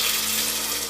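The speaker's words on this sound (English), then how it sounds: "I'm going to add a little water" Water pours steadily from a tap into a soup pot of vegetables with butter and onions on a kitchen stove, a dense, continuous rushing splash lasting the full second with no talk.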